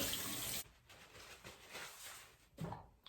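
Warm water runs from a tap for a moment while a face is rinsed, then gives way to quieter splashing and dripping, close by and soft.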